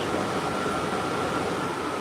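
A Red Line subway train rumbles steadily with a broad, even roar and a faint mechanical hum.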